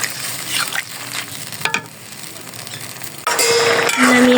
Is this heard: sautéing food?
yes